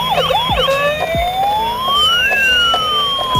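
A toy siren wails with rising and falling electronic tones, loud and close, broken by a few clicks and knocks.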